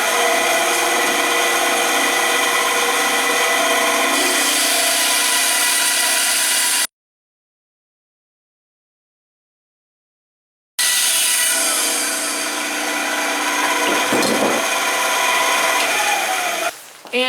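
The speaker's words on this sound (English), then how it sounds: "And now I will cut out the notches I made on my bandsaw." A bandsaw cuts notches in wood for a drill press table, running as a loud, steady whirring grind that stops abruptly for a few seconds of silence, then resumes with a slight change in pitch near the end.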